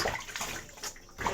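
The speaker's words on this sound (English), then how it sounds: "let me wash my hands" Hands being washed under a running kitchen tap, water splashing and sloshing steadily at close range for a brief moment.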